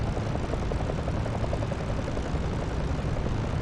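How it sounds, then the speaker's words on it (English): P-51D Mustang piston engine idling around 1000 to 1200 RPM in the DCS flight simulator, a steady close propeller drone with an even rough pulse throughout, no voices. "Continue to idle the engine at 1000 to 1200 RPM until ready to taxi or perform a pre-flight check"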